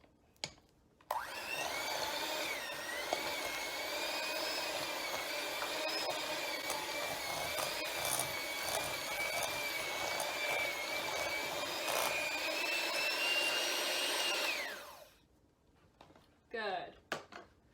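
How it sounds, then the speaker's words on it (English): An electric mixer creams butter for cookies, a steady high motor whine with a whirring drone lasting about fourteen seconds before cutting off, followed by brief clinks and a voice. "You're going to get out either a hand mixer or a stand-up mixer,"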